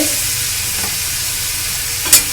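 Ginger-garlic paste frying in a pan for capsicum chop filling gives a steady broad sizzle with faint stirring scrapes and a brief sharp scrape near the end, no talk.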